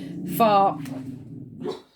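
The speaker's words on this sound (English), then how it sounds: "that's my mum's dog barking because we've got someone outside" Dog barking at someone outside, a short sharp bark or two indoors, with a person talking alongside.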